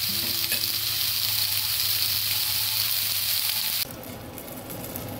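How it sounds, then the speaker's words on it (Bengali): Eggplant pieces frying in oil in a covered pan on the stove, with a steady loud sizzle that suddenly drops quieter near the end as the lid shifts. "বেগুনগুলোকেও আমি ঢেকে ভেজে নেব।"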